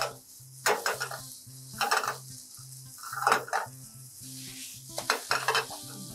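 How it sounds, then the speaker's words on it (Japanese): Onions stir-fried over high heat until caramelized for onion gratin soup, bursts of loud sizzling and spatula scraping in a pan in irregular strokes over a low background hum, no voices. "これ大体強火で1分ぐらい炒めて、全体的に、飴色の玉ねぎになりますね"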